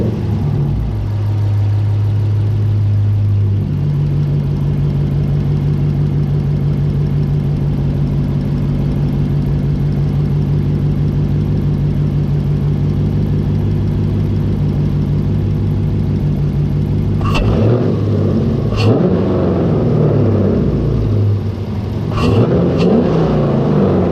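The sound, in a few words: car engine revving with Legmaker cold air intake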